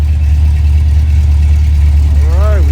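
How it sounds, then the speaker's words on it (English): A 1979 Chevrolet El Camino engine idling at about 1100 RPM with a transmission fault, a loud, steady low rumble close by, with a brief rising whine near the end. "Right now she's idling at about 1100 RPM."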